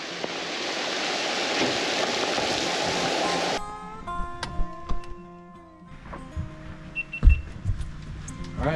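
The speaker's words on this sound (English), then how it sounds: "we had a quick little downpour there for a minute" Steady broadband hiss of a heavy rain downpour fills the first few seconds, then cuts off abruptly, leaving quieter scattered sounds and tones, during salmon trolling.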